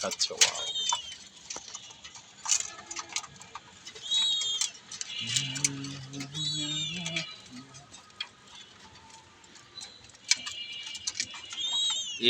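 Pigeons kept by a hobby breeder coo in low, soft repeated phrases, most clearly in a short run near the middle, mixed with chirping birds and background chatter from people talking nearby.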